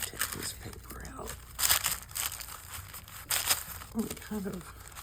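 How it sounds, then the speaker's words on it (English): Paper pulled out of an art journal, producing several short crinkling, tearing bursts at close range, interleaved with quiet speech from a nearby voice. "Take this paper out."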